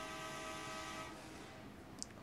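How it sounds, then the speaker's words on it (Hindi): Indian train horn sounding in GTA V on mobile: a steady, sustained multi-tone blare for about a second that cuts off and leaves a low rumbling train running underneath, fairly faint overall. "हॉर्न मारते ही हम निकल चुके हैं।"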